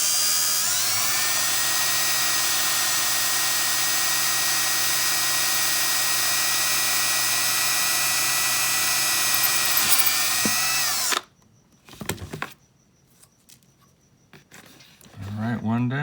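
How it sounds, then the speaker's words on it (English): A power drill with a 1/8-inch bit whines steadily for about eleven seconds at close range, drilling a hole for an M3 screw in an RC crawler skid plate, then cuts out, followed by brief clicks and handling noises. "now I'm going with a 1/8 drill bit, and this will allow clear passage for the M3 screw"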